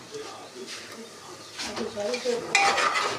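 Cumin seeds drop into a hot pan for dal tempering, and a soft sizzle swells and brightens toward the end, mixed with light utensil clinks while someone talks over it.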